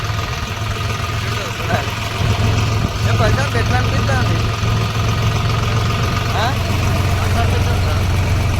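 A tractor engine runs steadily with a loud, low rumble throughout, while a person speaks briefly over it.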